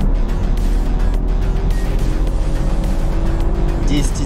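BMW F30 318i with a 136 hp engine accelerating hard from 0 to 100, a loud continuous engine roar heard from close by with a voice speaking over it.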